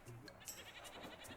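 Goats bleat in the game Sea Dogs 2: Pirates of the Caribbean, a few short calls rising over a busy ambient background of town sounds, with a voice speaking over them.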